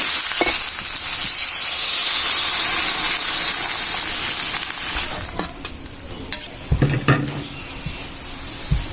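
Water poured into a pan of frying egg and potato curry sets off a loud burst of hissing steam, which fades into softer sizzling broken by sharp stirring knocks.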